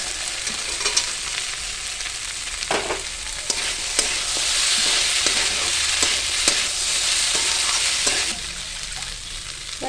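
Fish frying in a bubbling curry in a pan, a steady loud sizzle broken by repeated scraping stirs, with no voices.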